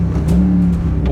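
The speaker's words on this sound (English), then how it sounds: "Give it some revs." A derelict Rolls-Royce Silver Cloud engine revs with a strong, sustained drone, close by and loud, with voices mixed faintly in.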